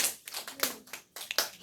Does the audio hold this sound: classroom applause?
yes